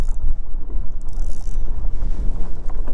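Strong wind buffets a kayak out on a mountain lake, a loud, continuous rumbling roar with gusty swells throughout.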